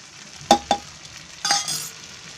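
Spices tipped into a pan of sizzling Shahi mushroom masala, two sharp clinks of a spoon on the pan and then a burst of sizzling and stirring, close and fairly quiet.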